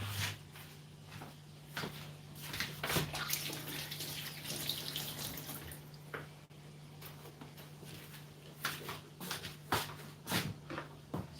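Food being washed under running tap water during a livestreamed cooking session: a steady, close stream of water with splashes, handling noise and shuffling throughout, no talk.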